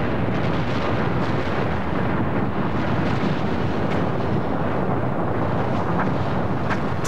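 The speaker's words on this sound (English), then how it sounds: "a huge explosion bursts out from the north face of Mount St. Helens" Mount St. Helens erupts as a huge explosion bursts from its north face, a loud, unbroken roaring rumble with gusty, wind-like turbulence that never lets up.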